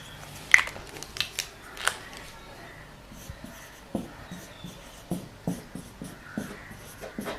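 A marker scratching out answer options on a board during a chemistry gas-law lecture, short separate squeaks and strokes at an irregular pace, fairly faint in a quiet room.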